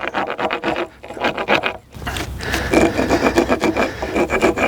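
A chisel working on wood for rough woodworking, with rhythmic rasping, scraping strokes up close, a brief pause, then steadier, louder scraping, with no talking.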